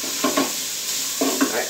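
Potpie filling sizzles in a hot pan as it is stirred, two short bursts of scraping and frying a second apart over a steady soft hiss.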